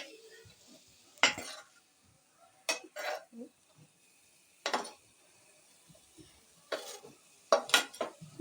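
Tender cooked beef being mixed in a pot, sharp intermittent clinks and scrapes of a utensil against metal separated by near silence, close and fairly quiet.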